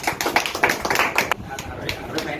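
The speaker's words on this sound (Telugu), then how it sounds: "అదే చప్పట్లు." Applause from a crowd at a local news event in Eluru, a burst of dense clapping for about a second and a half that thins into scattered claps, with voices talking underneath.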